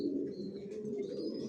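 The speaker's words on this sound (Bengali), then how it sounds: "কোয়ালিটি সম্পন্ন কবুতর পালি" Racing pigeons cooing in a loft, a dense low throaty burble from several birds at once, close and continuous, with a few faint higher chirps above.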